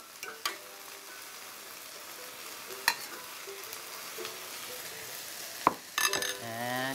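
Onions caramelize in a pan while someone keeps them moving, a soft continuous sizzle with occasional sharp clinks and scrapes of a utensil, the loudest near the end.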